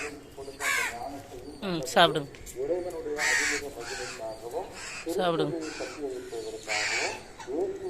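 Crows, including a young one, caw repeatedly while being fed outdoors, harsh calls coming in several bursts close by as a person talks to them.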